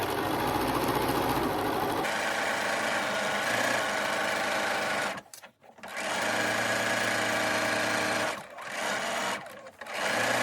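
A Bernina sewing machine stitches a pillowcase in steady runs of fast, even needle chatter, pausing briefly as the fabric is turned, then running again.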